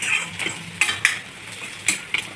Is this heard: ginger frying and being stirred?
yes